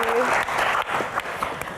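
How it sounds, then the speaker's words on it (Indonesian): Audience applause at a pageant Q&A event, steady dense clapping throughout with a brief tone and a voice at the very start. "tepuk tangan sekali lagi untuk Queen kita"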